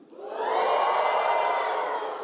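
Parents and families at a commencement let out a loud, sustained collective "woo" cheer that rises quickly and holds for about two seconds.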